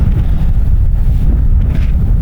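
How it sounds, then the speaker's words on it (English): Heavy wind buffeting a microphone on open public land in Nebraska, a loud continuous low rumble and roar with no other sounds coming through. "It's windy out here, so I'm gonna try and cover the mic so y'all can hear me."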